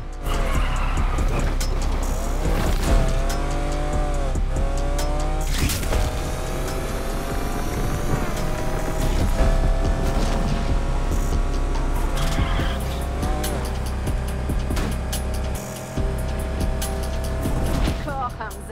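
A race car in Need for Speed Unbound roars at high revs with shifting engine pitch, screeching tires and skids, and a nitro-boosted surge, loud and continuous, with people talking over it.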